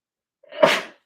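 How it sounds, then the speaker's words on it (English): A single close, loud sneeze with a brief inhaled build-up and a sharp burst, heard alone in a quiet room during a home sewing session. "All right, got my daily sneezes out of the way."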